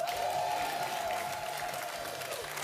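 Sustained audience applause at a live event, a dense steady wash of clapping held at an even level throughout, with a faint tonal hum running underneath.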